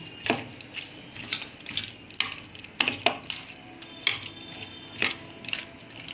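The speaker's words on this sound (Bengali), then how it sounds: "এটাকে এবার ভালো করে মাখিয়ে নেব" Chicken pieces being mixed by hand with chilli powder and turmeric in a bowl for egg chicken pakora, giving a run of close, sharp clinks and wet squelches at an uneven rhythm.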